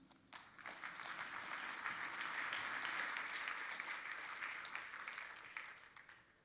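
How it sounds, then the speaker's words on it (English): An audience applauds after a speech at an opening ceremony, a dense burst of clapping that swells quickly, holds steady for several seconds and then tapers off, with no talking over it. "my heart warmed when you applauded comments about climate change"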